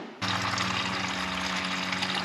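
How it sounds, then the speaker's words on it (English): Coolant drains from a Porsche 944 after the blue drain plug is opened: a sudden, steady rush of liquid splashing close by, continuing without pause and with no voices. "I am going to drain the coolant here"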